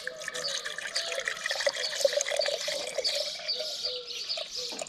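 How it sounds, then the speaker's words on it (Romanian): Water is poured into a glass jar that already holds sugar and yeast, making a steady, faint gurgling trickle with shifting pitch as the level rises, set against a quiet background with birdsong. "Punem apă în borcan, dar nu plină."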